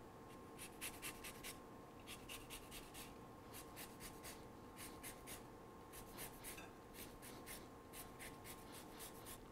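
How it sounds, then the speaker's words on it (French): Quick, repeated scratchy strokes as a rinsed lime is zested, light bursts in irregular rhythm over a quiet kitchen background, close and faint, with no voices. "je vais zester la lime"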